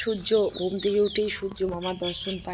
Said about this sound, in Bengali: আর বাইরে পাখিগুলো এত কিচিরমিচির করে